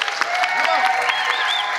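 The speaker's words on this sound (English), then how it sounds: "Right here with your applause." Church marriage-night audience applauding to vote for a couple, a dense, steady wash of clapping with some cheering and whoops throughout the short burst.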